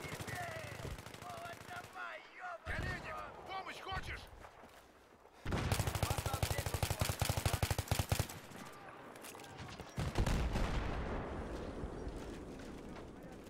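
Mortar blasts and gunfire in a multiplayer war video game: rapid machine-gun bursts and heavy booming impacts come in loud stretches separated by quieter gaps, with players talking over the combat.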